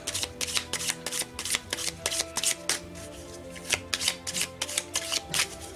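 Vintage tarot cards being shuffled by hand, a run of crisp riffling bursts in a steady rhythm, close and fairly quiet, with no talking.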